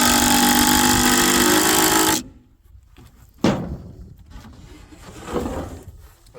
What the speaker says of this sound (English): I still can't believe the power of these modern impact guns.